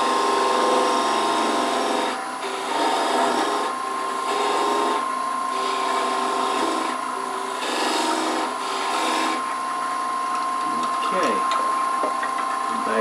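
A lathe chisel cuts wood while turning a captive ring goblet. A steady machine whine runs throughout under several rough, scraping cutting bursts of a few seconds each, with a brief clatter near the end.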